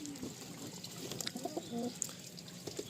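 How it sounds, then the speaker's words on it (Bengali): Giribaj and Madrasi pigeons stir inside a crowded loft, giving soft scattered coos and clucking calls amid rustling and faint background noise, with no voices. "পুরো লফটে দেখুন সব পায়রা অ্যাক্টিভ রয়েছে"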